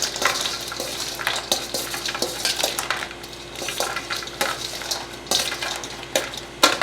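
Warm winter duck salad with plenty of croutons being tossed and mixed, giving a steady run of scraping, rustling and light clinking utensil strokes against a bowl, close and moderately loud with no talk.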